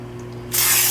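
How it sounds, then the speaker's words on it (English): Cooking spray hisses from an aerosol can into a baking pan, a loud steady burst starting halfway through after a low kitchen hum, with no talking. "Don't forget to spray the pan."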